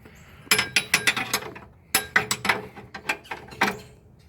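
A 19 mm wrench ratcheting on a Panhard bar bolt of a Volvo 240: two bursts of quick, sharp metallic clicks close up, separated by a short pause, with no talking.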